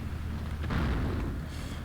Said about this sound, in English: Now the artillery is still firing at the upper positions here.